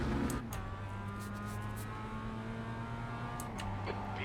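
A Mazda MX-5 race car in the iRacing simulator holds a steady engine drone, briefly surging near the start and end, heard alone and fairly close with no talking.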